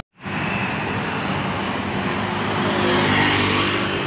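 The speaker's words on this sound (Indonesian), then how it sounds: "Nah itu ada bus ini ya" A BSD-Link bus pulls up at a stop in traffic, its engine and road noise forming a loud, steady, close rumble that swells slightly near the end, with no talking.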